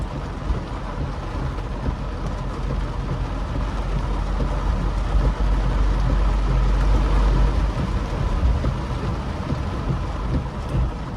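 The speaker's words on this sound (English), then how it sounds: "you can enjoy listening to the rain" Heavy rain pours down during a storm in Philadelphia's Juniata neighborhood, a loud, steady, dense wash of noise with a deep rumbling low end that holds for the whole stretch without any voices.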